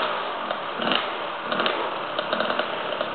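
A motorcycle engine drones steadily and roars loudly, swelling in a few short revs as it builds up power.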